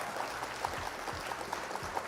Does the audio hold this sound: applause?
yes